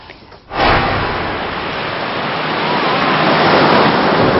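Ocean surf at Kanagawa, a steady broadband wash of breaking waves that swells in after a brief quiet start and rolls on loud and continuous.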